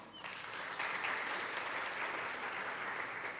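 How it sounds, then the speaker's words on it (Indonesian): A youth church service congregation applauds together, a steady, fairly soft wash of many clapping hands that swells slightly after the start and holds evenly to the end. "Tepuk tangan buat Tuhan."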